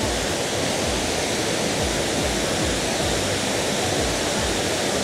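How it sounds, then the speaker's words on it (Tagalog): Kuang Si waterfall in Laos roars as a dense, steady rush of falling water, loud and close, with no voices over it. "The waterfall, Tat Kuangsi, a legend."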